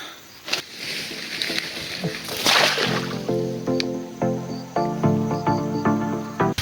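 A fishing net (jagi jal) cast into water, with sloshing and splashing against a noisy outdoor background, followed by watery stirring and trickling; a tonal hum also runs beneath it.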